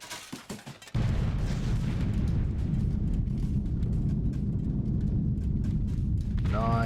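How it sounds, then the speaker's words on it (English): Bombs from a B-17 bomber formation landing on a target in a flight combat game: a few scattered thuds, then a heavy continuous rumble of explosions rolling on at a distance, closing with a brief electronic tone. "hopefully the bombs should start landing around here"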